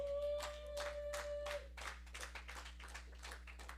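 A church congregation claps along in a fairly regular rhythm during a worship service, sounding faint and somewhat distant over a low electrical hum.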